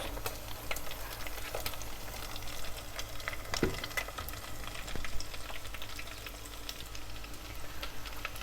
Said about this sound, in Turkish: Kuyruk yağlarımız kızarmaya başladı ve yağ eriyip ayrılmaya başladı.